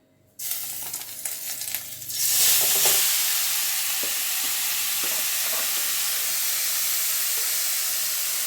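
Grated carrot hits a pan with a little oil and erupts into a loud, bright sizzle that settles into a steady frying hiss, with occasional stirring scrapes.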